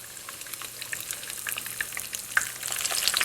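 Keto zucchini fritters sizzle loudly and steadily in a frying pan as they are flipped, with a brief clack of the turner partway through and the hiss swelling slightly toward the end.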